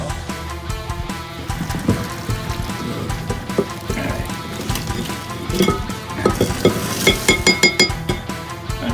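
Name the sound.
stirring ramen noodles in a pot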